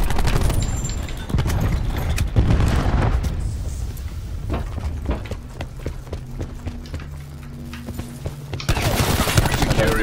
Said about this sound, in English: Why am I getting shot at?